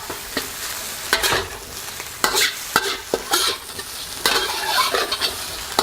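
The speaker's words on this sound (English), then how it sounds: "And you just want to gently fold that in with the egg." Cooked rice is folded into frying egg for fried rice, a continuous sizzle punctuated by repeated sharp scrapes and knocks of a utensil against the pan, close and fairly loud.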